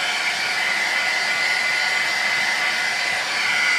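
A heat gun blows on a painted art journal page, a steady loud whooshing hum with a faint whine, running unbroken and close for the whole stretch.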